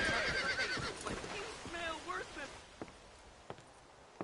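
A horse in Red Dead Redemption Undead Nightmare whinnies loudly and close, followed by snorts and a few scattered hoof clops fading into quieter ambience.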